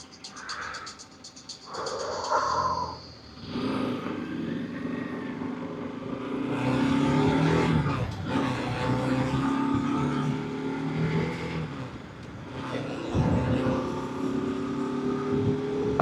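A Bajaj Pulsar RS200 motorcycle ridden on an open road, its engine droning and rising in pitch as it accelerates, heard up close with strong wind rush throughout.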